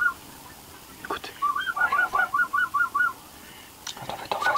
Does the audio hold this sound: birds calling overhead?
yes